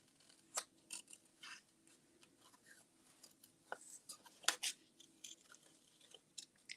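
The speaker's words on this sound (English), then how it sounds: "And I'm just cutting around the sentiment using curvy lines." Paper snips cut around a watercolored card sentiment in quick, irregular snipping bursts, close and fairly quiet, with soft paper rustle between cuts and no talk.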